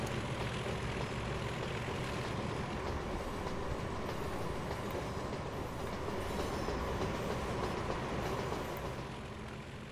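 Diesel-era trains rolling along tracks in the game Transport Fever 2, a steady dense rumble with wheel clatter that holds throughout and eases off slightly at the end.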